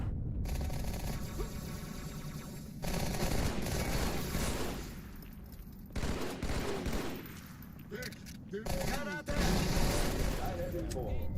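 Bursts of automatic and single-shot gunfire fill a Halo 2 speedrun, loud and repeated with sharp cracks in shifting clusters, and a voice talks over parts of the combat.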